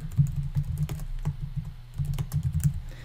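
Close, rapid typing on a computer keyboard, with dense bursts of key clicks, a brief lull midway, then more typing; no voices.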